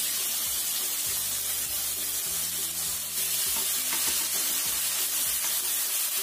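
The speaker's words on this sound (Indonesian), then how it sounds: "Kita tumis sampai matang." Chili stir-frying in a pan, a steady close sizzle of frying with repeated stirring and scraping strokes throughout, no voices.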